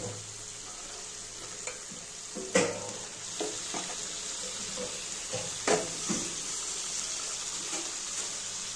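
Chicken pieces sizzle in a spiced masala base for chicken kosha curry with potatoes, a steady frying hiss with a few sharp spatula scrapes and clinks standing out near the mic; no talking.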